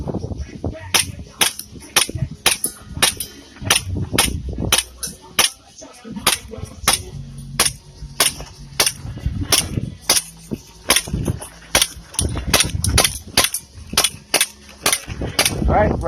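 G&G GTP9 gas blowback airsoft pistol fired at a range, a long series of sharp, close snaps at a fairly even pace with a couple of short pauses, and a voice faintly present.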